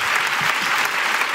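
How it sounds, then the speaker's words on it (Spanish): Live audience applauding at a Spanish comedy podcast recording, a dense steady wash of clapping sustained through the whole moment with no gaps. "¡Aplausos para la ruina de Laura Márquez!"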